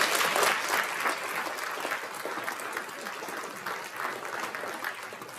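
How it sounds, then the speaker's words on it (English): Sustained applause from an audience at a high school senior awards ceremony, a dense steady wash of clapping that fades slightly but keeps running throughout with no voices on top. "we're going to keep that applause running"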